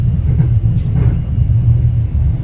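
Inside a Merseyrail train during a ride, a steady low rumble of wheels and running gear rolls on continuously, with faint rattles above it and no talk.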